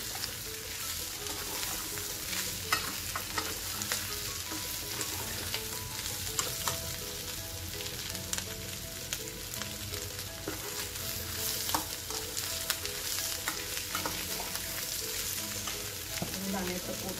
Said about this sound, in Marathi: आपण चिरलेली कोथिंबीर पण घालू. हलवून घेऊ.